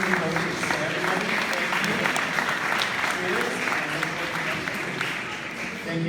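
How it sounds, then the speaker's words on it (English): Sports banquet audience giving student athletes a big round of applause, a full, steady wash of clapping across the hall with some cheering voices mixed in. "give them a big round of applause"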